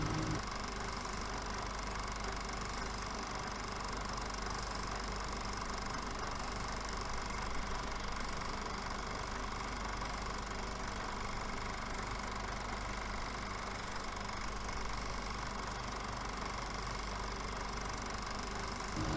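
A light aircraft engine drones steadily on a grass airstrip in Hillsboro as the plane takes off, a constant mid-range hum with no breaks, and no voices over it.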